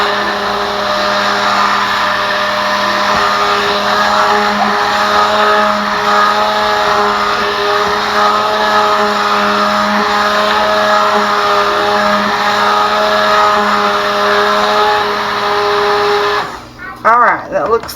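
A stick blender mixes cold process soap batter, giving a steady, loud, high mechanical whir that holds for many seconds before cutting off near the end, with some talking.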